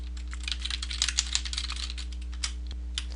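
Keys click in quick irregular bursts as a project name is typed on a computer keyboard, close and crisp over a steady electrical hum, with no talking.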